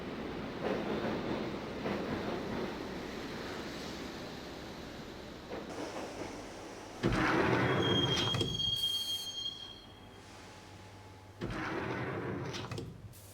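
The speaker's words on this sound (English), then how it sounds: "the train doors had already shut behind me, and I was in for the ride" Subway train riding along the rails in the Max Payne video game, a steady rumbling roar with bursts of squealing wheels and a piercing metallic screech, loud and continuous with no talk.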